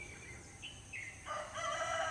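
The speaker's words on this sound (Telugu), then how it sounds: "విలేజీలో మాత్రమే వింటూ ఉంటాం ఇలాంటి కోడి పుంజులు" A rooster crows in the distance in a village, faint but clear over a quiet outdoor background.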